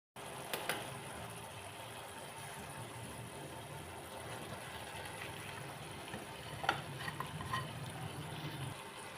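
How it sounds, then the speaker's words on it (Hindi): Arvi (taro) stirred into masala as it fries in a pan gives a steady, close sizzle and bubbling hiss with a few soft utensil clinks throughout. "इसको मिक्स करके हम 1 से 2 मिनट के लिए भुनाई करेंगे।"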